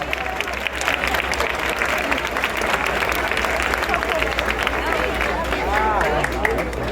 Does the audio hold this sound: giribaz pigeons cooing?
no